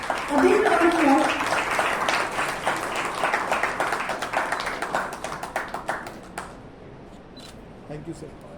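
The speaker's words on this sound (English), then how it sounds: "A big round of applause." Clapping breaks out at a quiz competition prize ceremony for the participating students and teachers, starting loud and dense, then thinning into scattered claps before dying away, with a voice briefly audible at the start.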